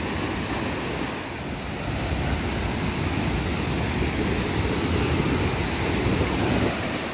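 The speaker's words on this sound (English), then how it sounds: "It's quite an impressive waterfall today. Clearly this is flood stage levels of water" Virgin Falls in Tennessee pours at flood stage, a loud, unbroken roar of heavy water heard close up, broadband and steady with some wind buffeting the microphone.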